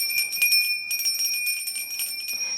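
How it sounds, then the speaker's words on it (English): A small bell rung to wake an altar gives sustained bright high tones with a quick pulsing tremble. It sounds close and clear, with no voices. "I play my little llama bell"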